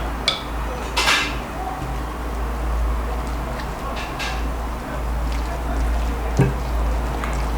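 Keto bacon cheddar cheese ball ingredients, with paprika among them, are stirred in a bowl, giving scattered clinks and scrapes of a utensil against the dish over a steady low hum, with no talking.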